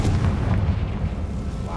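A Confringo spell bursts in the video game Hogwarts Legacy, a deep rumbling explosion that fills the short moment loudly and then slowly fades.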